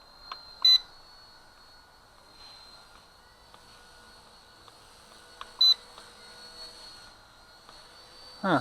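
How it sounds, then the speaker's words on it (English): An RC helicopter transmitter gives short, bright beeps, a few spaced-out chirps over a steady high whine from the hovering first-step trainer heli, with a louder scrape or thud at the end. "there's no double beep, just a single beep."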